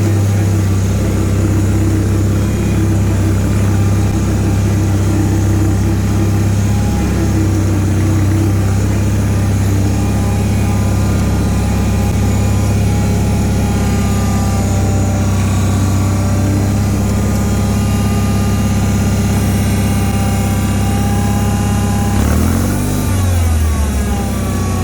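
The 23 HP Kohler 945cc engine of a Bolens HT-23 garden tractor, model 2389S, runs loud and close with a steady droning idle, then stalls near the end with a sputtering wind-down.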